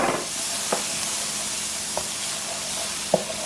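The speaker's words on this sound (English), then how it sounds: "Now we're going to add in our onion" Diced onion sizzling in melted butter in a pan, a steady close hiss of frying with a few soft clicks and taps of stirring, no voices.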